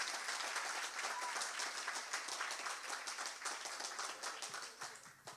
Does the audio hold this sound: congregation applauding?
yes